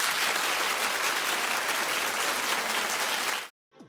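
A studio audience claps loudly and steadily for the top three finalists at a drag race finale. The dense, even applause lasts several seconds and then cuts off abruptly.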